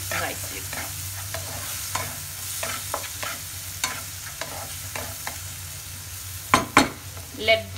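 A spiced oats mixture with garam masala fries in a pan, sizzling steadily under close, rhythmic spoon scrapes and stirring strokes. A few louder metallic knocks come near the end.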